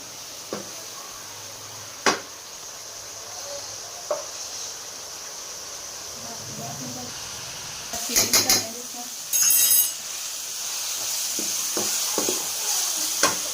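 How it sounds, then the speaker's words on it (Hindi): Chicken jalfrezi stir-frying in a pan, a soft steady sizzle broken by occasional spatula knocks and a few brisk clattering bursts of scraping, close by, with no talk. "तो हमने मज़ीद 2 मिनट तक इसी तरह अब और भूनना है इसे।"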